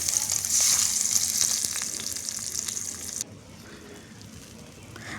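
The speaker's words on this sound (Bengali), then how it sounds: "কড়াতে গরম তেলের উপরে মাছগুলো একে একে ছেড়ে দিলাম।" Fish sizzles loudly in hot oil in a wok with a bright crackling hiss that drops abruptly to a softer, lower sizzle partway through.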